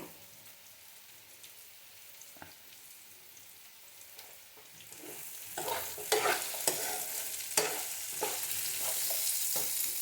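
Pumpkin pieces are stirred as they fry in a pan. A quiet hiss grows into a steady, louder sizzle, with irregular scraping strokes of a spoon up close.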